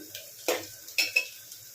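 Ginger garlic paste stirred into onions, green chilies and mint in a pan for chicken curry, giving short spatula clinks and scrapes against the pan with a faint sizzle; three or four distinct clatters over a quiet background.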